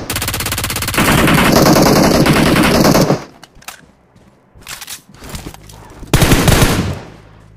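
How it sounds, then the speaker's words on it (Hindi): Bursts of automatic gunfire from the BGMI mobile battle game, a long rapid volley up front followed by short scattered shots and a final loud burst, close and dominant. "अभी ने फायरिंग दिया"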